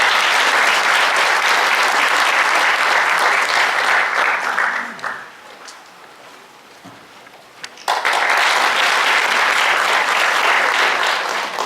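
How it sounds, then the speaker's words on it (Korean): A large crowd at a packed public event applauds loudly and steadily to welcome a speaker, fades briefly to quiet, then bursts into full clapping again. "박수로 모시겠습니다."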